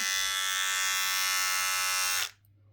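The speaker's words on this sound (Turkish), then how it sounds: "Ha bir de şurada şey var. Tıraş makinesi." Electric shaver buzzing steadily up close with a bright, harmonic-rich whine, then switched off abruptly near the end, leaving a quiet room.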